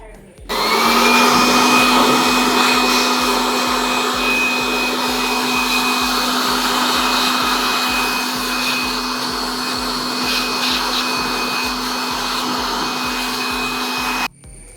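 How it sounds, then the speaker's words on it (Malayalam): Air blower held close and blowing dust out of a Tata Altroz AC cabin filter, a loud steady whooshing roar with a constant motor whine that runs unbroken for about fourteen seconds, then cuts off abruptly. "ആ ബ്ലോവർ വെച്ച് ഒന്നുകൂടെ അടിച്ചു കഴിഞ്ഞാൽ കുറച്ചും കൂടെ ആ പൊടികളെല്ലാം ഒന്നുകൂടെ ശരിക്കും പോവും"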